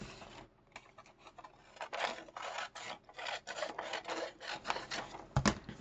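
Scissors snipping through crinkly wrapping paper in a series of irregular, close rasping cuts and rustles, with no voices.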